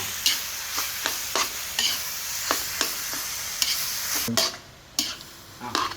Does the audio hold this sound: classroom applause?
no